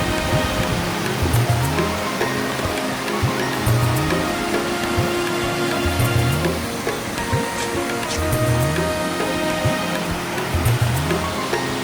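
Steady, broadband rush of flowing water from a river running fast beside a waterfall at Osam Hill, Patanvav, continuous and fairly loud with no pauses.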